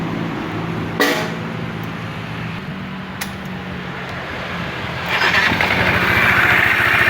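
An engine cranking back to life, a mechanical whir and rattle after a sharp click, idling with a steady low drone, then revved up into a louder, rougher roar near the end, no speech.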